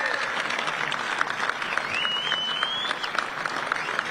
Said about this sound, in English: give him a stand-up or applause for the guy who put all this stuff together, Mr. Michael Severe.